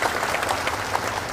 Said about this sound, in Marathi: आमचा रवी दुधकावड्या टाळ्या वाजवा त्याच्या नावाने.